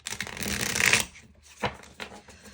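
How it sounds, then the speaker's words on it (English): A tarot card deck is shuffled by hand close by, producing a dense riffling burst for about a second, followed by a few softer card taps and slides. "So now we're shuffling up this Shimiltei, I believe is how it's pronounced, tarot"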